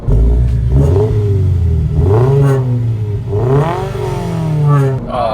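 A 2022 Toyota GR86 with a Q300 exhaust revs loudly up close, its engine note climbing and falling in several surges with no pause between them.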